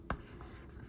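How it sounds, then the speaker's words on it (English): A bone folder pressing and rubbing leaf detail into paper, a short close scrape with a faint second stroke, quiet and without talk. "And then go back in with my bone folder and get the definition of the leaves so I can cut that part out."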